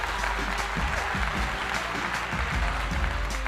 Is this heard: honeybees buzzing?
no